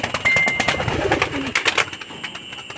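Pigeons coo softly in low repeated phrases, with light fluttering and scattered chirps around them; no voices.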